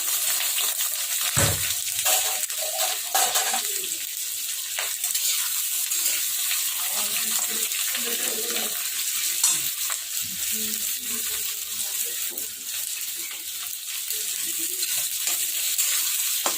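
Onions frying in hot oil in a pan, a sharp splash as they go in followed by a steady sizzle with intermittent stirring scrapes and clicks.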